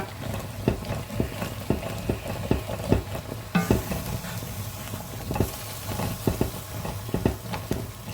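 A utensil scrapes repeatedly against a saucepan in quick, rhythmic strokes over a constant background sizzle of frying food.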